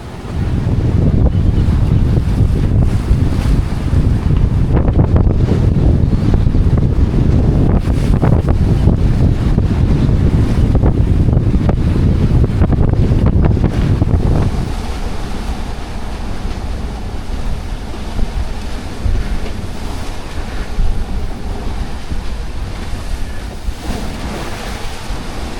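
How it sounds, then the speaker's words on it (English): Big ocean waves and gusting wind buffet a small sailboat on a rough open-water passage between Kona and Hilo, Hawaii, a loud, continuous roar of surf and wind that eases slightly about halfway through. "These waves are getting big."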